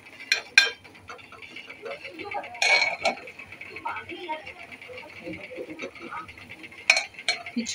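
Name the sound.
serving khichdi out of the cooking pot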